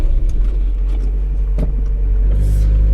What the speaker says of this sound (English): Yeah, this car is a bit old.